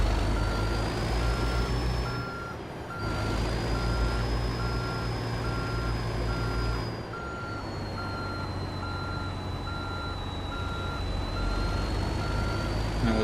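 A heavy truck backing a rental trailer in American Truck Simulator gives a steady series of evenly spaced reversing beeps over a constant diesel engine drone, with a faint air-brake hiss partway through.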